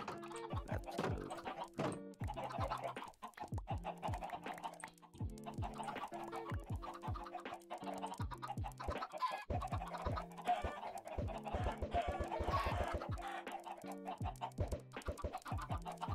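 Chickens clucking in a video game, a steady run of short repeated clucks from several birds close by, with game music or ambience underneath and no talk.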